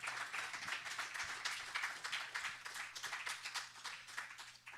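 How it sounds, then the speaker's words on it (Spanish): A church congregation claps in praise during a sermon, a faint, steady patter of many hands heard from a distance. "Dale un aplauso al Señor."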